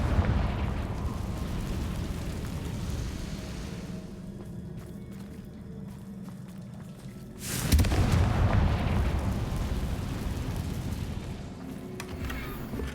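Confringo fire-spell blasts in the video game Hogwarts Legacy, a heavy booming rumble that fades over several seconds and then gives way to a second loud explosive burst with a crackling, rumbling tail.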